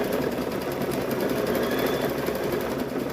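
A sewing machine stitching an apron runs steadily and close, a continuous fast mechanical whir and rattle that holds at an even level for the whole stretch, with no one talking.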